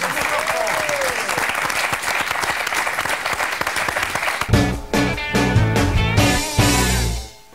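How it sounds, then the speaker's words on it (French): Studio audience applauding a French cooking-show host, a dense steady clatter for about four and a half seconds before it breaks into a loud jingle with a thumping beat that carries on to the end. "applaudissements pour Hortense Marin qui est avec nous"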